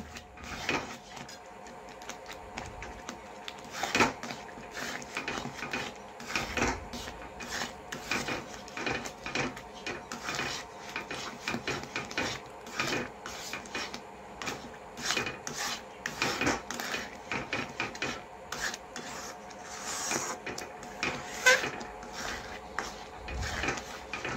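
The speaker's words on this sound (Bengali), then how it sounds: "এখন অনবরত নাড়াচাড়া করতে হবে, না হলে লেগে যাবে।" Sticky sandesh mixture stirred without pause in a pan, a steady close-up rasping scrape repeating in quick irregular strokes for the whole stretch, with no voices.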